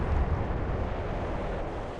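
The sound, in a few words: magazine explosion of a warship in Atlantic Fleet video game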